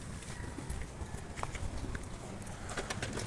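Pigeons in a coop give soft, faint cooing and rustling amid low background noise, with occasional light clicks and shuffles from the birds, no clear speech.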